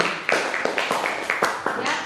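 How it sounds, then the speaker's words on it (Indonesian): Scattered hand claps ring out in a classroom lesson, sharp and roughly evenly spaced, a few people clapping at a moderate pace over about two seconds of continuous room noise. "Oke, baik, tepuk tangan"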